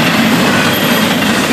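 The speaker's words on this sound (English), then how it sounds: "Train 210." A freight train rolls past close by, loud and steady, with rushing wheel noise and faint clickety-clack on the rails, filling the whole moment without any talk.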